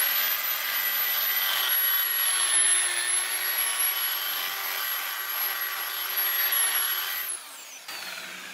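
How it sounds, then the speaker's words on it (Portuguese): Sanding paint with fine 1000-grit sandpaper, heard as a steady, close, abrasive whir with a faint high whine that runs continuously before dropping off near the end. "Agora a gente entra com a lixa 1000, que são essas lixas aqui, ó, de brilho."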